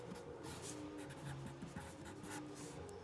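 Handwriting on paper: a soft, steady scratching of a pen moving in short strokes close by, quiet and continuous without speech.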